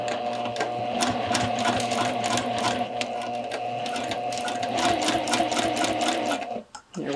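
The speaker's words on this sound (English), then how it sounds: "Stitch at 3/8, making sure I cover my stitches over this slashed edge" A sewing machine runs steadily along a slash pocket seam, its needle ticking in a quick, even rhythm with a constant motor hum, close and alone, before stopping with a brief pause near the end.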